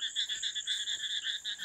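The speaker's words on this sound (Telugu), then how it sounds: "దీంట్లో కప్పలు చూడండి ఏమి అరుస్తున్నాయా," Frogs croak at a small pond by forested hills, a steady chorus of rapid pulsing calls, close and fairly faint, with no talking.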